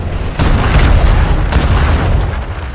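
Cannons fire from a galleon in the video game ATLAS, deep booming blasts landing in a rapid cluster of several loud shots with rumbling tails, up close and dominating the sound.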